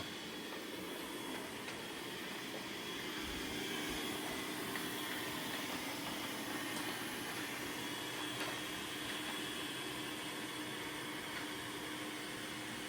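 A Dreame robotic mop and vacuum cleaner runs with a steady, broadband whirring roar that holds at a constant level throughout, close by and without talk.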